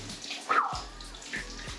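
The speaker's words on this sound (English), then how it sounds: "I'm testing the shower out, make sure it don't leak before we put tile on the wall" A new shower sprays steady running water onto a wall waterproofed with Schluter Kerdi membrane before tiling. The hissing stream is close and fairly loud, with brief splashes, and no voices.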